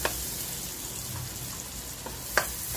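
Garlic sizzling in melted butter in a pan while cooking chicken adobo, a steady soft frying hiss with a few faint clicks and one sharper utensil tap near the end, no talking.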